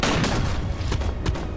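A combat tank in a Centauri and SOL faction strategy game fires dual shotguns, making a dense burst of loud, overlapping booms and cracks with a few sharper blasts standing out.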